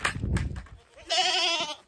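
Goats bleat in a barn shared with llamas: two short calls near the start, then one long, nasal, wavering bleat close by, with shuffling and knocks around it.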